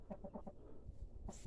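A rooster gives a quick series of four or five short, low clucks, then a louder cluck after a pause, with soft background rustling.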